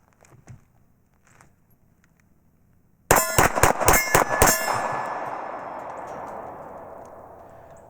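A Sig Sauer P320 pistol emptying a magazine of mixed hollow-point and reloaded rounds, about half a dozen loud, sharp shots fired in rapid succession after a quiet stretch, then a long ringing echo that fades away.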